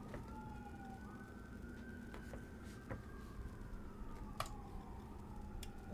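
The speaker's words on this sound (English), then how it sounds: "Just cop sirens, non-stop cop sirens" Police car sirens wail during street protests in Los Angeles, faint and distant, with slow rising and falling tones overlapping behind a low ambient hum and a few sharp clicks.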